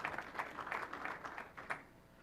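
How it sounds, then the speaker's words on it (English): A sparse, slow round of clapping from a small tech presentation audience, scattered claps roughly every few tenths of a second, faint and somewhat distant in a large room before fading out. "Appreciate the slow clap."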